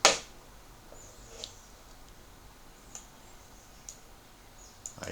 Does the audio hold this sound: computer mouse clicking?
yes